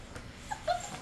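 A puppy gives short, high whimpers, two brief squeaky cries close by over a quiet background.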